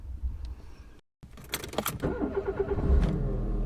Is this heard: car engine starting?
yes